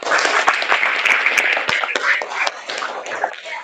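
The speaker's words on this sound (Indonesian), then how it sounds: "tepuk tangan dulu untuk Bayu" Brief round of applause from a small group in a kindergarten classroom, scattered claps rising and thinning over a few seconds, close and fairly loud.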